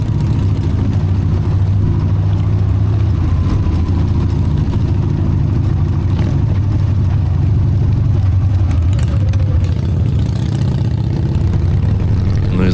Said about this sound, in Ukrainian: як не додати газу, проїжджаючи через тунелі чи під мостами